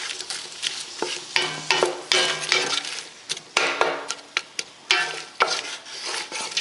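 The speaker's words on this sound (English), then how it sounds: "At this point, you're going to stir your pot." Onions stirred in a pot for French onion soup, a spoon scraping and stirring in repeated strokes over a gentle, steady sizzle, close and fairly loud with no talking.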